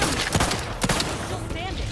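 Grenade explosions during combat in the video game The Outer Worlds 2 crack out as sharp bursts over a dense, noisy wash of battle sound, loud and close.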